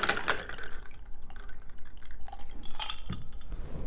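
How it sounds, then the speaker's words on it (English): Ice cold water is poured into a cup, with close splashing and trickling plus a few light glassy clinks, heard without talk. "I'm going to place ice cold water."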